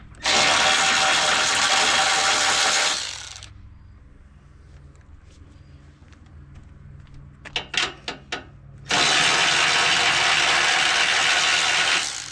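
A ratchet with a deep socket loosens the transmission cooler pipe nuts on a Chevy truck. Loud bursts of rapid clicking frame a quieter middle with a few metallic knocks and clinks.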